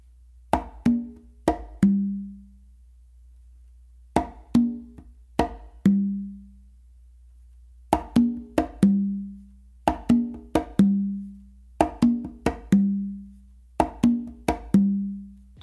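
A guaguanco tumbao on congas, with sharp slaps, soft ghost notes and open tones on the tumba, repeats in tight rhythmic phrases separated by short pauses, played close and alone with no talking.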